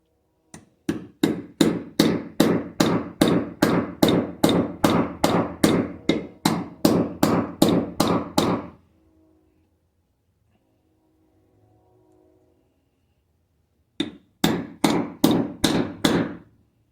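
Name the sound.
hammering a U-joint cap into a Ford F150 yoke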